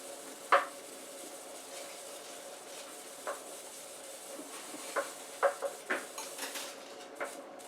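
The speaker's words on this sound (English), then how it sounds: "I'm going to add this just a little bit at a time and stir it in." Scattered clinks and scrapes of a utensil stirring one-pot pizza spaghetti in a boiling metal pot, irregular and fairly soft, over a steady low background hum.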